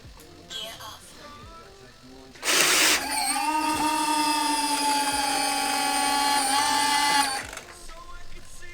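Nose landing gear of a Boeing 777-9X retracting, heard as a loud, steady hydraulic whine with tonal harmonics lasting about four and a half seconds after a short burst, then cutting off.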